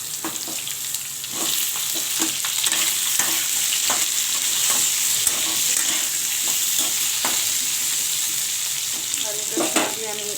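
Potato, carrot, beans and capsicum sizzle loudly in a pan, and repeated scraping and clattering strokes of a spatula keep the vegetables moving. No one speaks.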